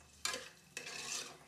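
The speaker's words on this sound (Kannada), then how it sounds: "ಸ್ವಲ್ಪ ಎಣ್ಣೆ ಕಾದ್ಮೇಲೆ ನಾವೇನು ಹೆಚ್ಚಿಟ್ಕೊಂಡಿದ್ದೋ ಈರುಳ್ಳಿನ ಅದನ್ನ ಹಾಕಿ ನೀಟಾಗಿ ಮಿಕ್ಸ್ ಮಾಡ್ಕೊತೀನಿ" Chopped onions dropped into hot oil and stirred, giving a broad frying hiss with two sharp scraping stirs near and clear, no voices.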